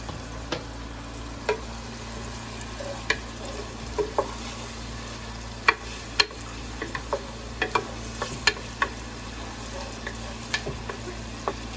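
Garlic frying in a pan over medium heat for beef tacos, a steady close sizzle with sharp pops and ticks scattered through it, no voices.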